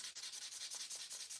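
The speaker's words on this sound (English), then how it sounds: "Just sanding on a couple pipes" Close, rapid scratchy strokes of sandpaper worked over a briar tobacco pipe, a rhythmic rubbing hiss repeating several times a second.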